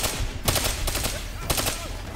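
Rapid automatic gunfire in Black Ops 3, several bursts of sharp cracks spread across two seconds, loud and close, with a brief spoken voice mixed in.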